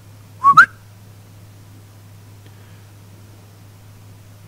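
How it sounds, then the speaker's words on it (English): A character in the stealth video game Styx gives one short, rising two-note whistle near the start. After it, only a low steady hum and near silence remain. "Can I, like, whistle?"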